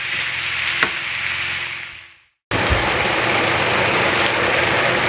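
Spring roll filling worked by hand in a bowl, giving a steady wet squishing and rustling that breaks off into a brief silence before resuming just as loud and close.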